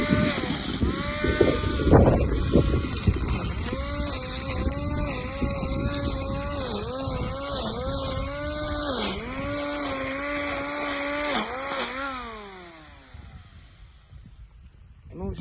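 A WORCRAFT CGT-S20LiDB cordless grass trimmer cuts through thick overgrown grass. Its motor whines steadily, and the pitch dips and rises as the line bogs in the growth, then spins down near the end. Someone speaks over it at times.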